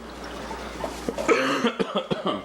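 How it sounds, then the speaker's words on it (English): Several short, sharp coughs close by, following a quieter stretch of background noise. "he's coughing all over the turkey."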